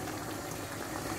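Chicken ostropel sauce bubbles steadily in a pot, a close, continuous low simmering burble with no voices over it.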